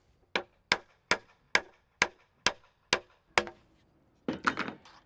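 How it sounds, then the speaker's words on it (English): Eight sharp, evenly spaced hammer blows drive mounting post inserts into a fiberglass stair tread for a Regal stair railing install, loud and close, followed by a brief burst of rattling clatter. "make sure you hammer these inserts past the edge"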